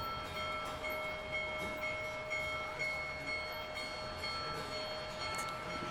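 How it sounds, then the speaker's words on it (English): A Big Boy steam locomotive passes and sounds its whistle, a sustained tonal blast held over the rumble of the train, heard from a distance and fairly faint. "Listen to that whistle."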